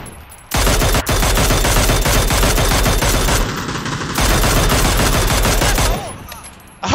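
Rapid, loud automatic gunfire rattles continuously in a shooting video game, pausing briefly midway and then resuming before cutting off near the end.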